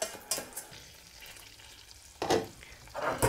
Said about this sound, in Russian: Так, в ризотто я добавляю немного вина. И вино полностью выпариваю.